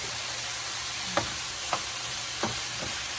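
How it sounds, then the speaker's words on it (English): Vegetables and onions sweat in a pan, producing a soft, even sizzle with four light taps from a utensil spaced across a few seconds. "And now we're just going to let these veggies sweat."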